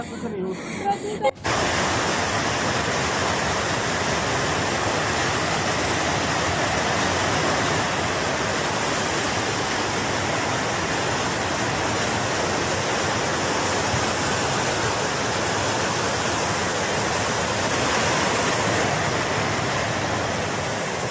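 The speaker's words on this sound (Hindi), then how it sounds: "ग्लेशियर टूटने के बाद पानी का जोरदार बहाव था और इस बहाव की आवाज़ सुनकर ये अंदाज़ा लगाया जा सकता है" Rushing floodwater after a glacier burst in Chamoli, Uttarakhand, a loud, steady broadband roar of torrent that runs unbroken for about twenty seconds after a brief quieter start.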